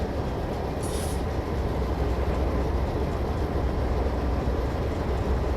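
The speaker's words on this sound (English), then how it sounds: "The train picks up speed smoothly on the straight track ahead." A train runs along straight track while gaining speed, a loud continuous rumble and rolling roar with a brief high squeal early on, steady throughout and without voices.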